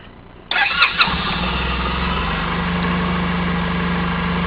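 A 2007 Suzuki Burgman 650 Executive scooter engine cranks for a moment, catches, then settles into a steady, even idle, close and loud with no talking.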